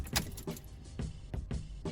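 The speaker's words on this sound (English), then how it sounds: "Keys out of the ignition." Car keys jangle as they are pulled from the ignition of an Alfa Romeo Giulietta, several close metallic clinks and rattles in quick bursts inside the quiet cabin.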